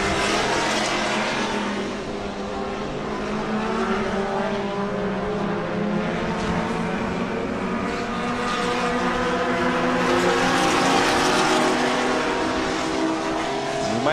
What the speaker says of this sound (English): in the number 23 car, making the turn right in front of our vantage point